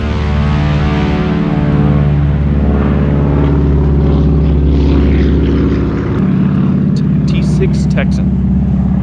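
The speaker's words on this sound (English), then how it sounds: "T6 Texan. That's what that is." A T-6 Texan propeller airplane passing overhead, a loud steady droning engine roar with strong low harmonic hum that shifts in pitch as it goes by, with faint voices near the end.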